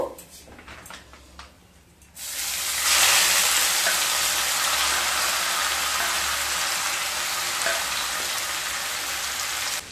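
Grated radish goes into hot oil after a quieter stretch of faint clinks. A loud, dense sizzle erupts and keeps crackling steadily up close.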